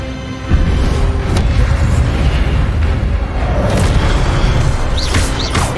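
Hogwarts Legacy Incendio fire spell cast in-game: a sustained roaring, rumbling burst with crackling texture and a few sharp flares, loud and continuous throughout with no talking.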